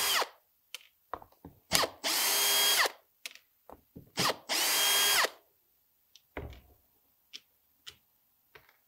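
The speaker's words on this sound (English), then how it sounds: "if you're new to the cordless drill, you can adjust the speed so it can be nice and slow." Cordless drill boring slowly into wood for a DIY moneybox: two sustained whirring bursts a few seconds apart, separated by scattered clicks, taps and handling knocks, with no talking.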